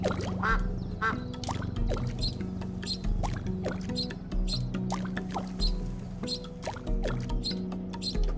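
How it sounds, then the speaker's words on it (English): Cartoonish ducks quack repeatedly in the video game SCHiM, short bright calls coming in quick rhythmic bursts over a steady tonal game soundtrack. "Hey, ducks."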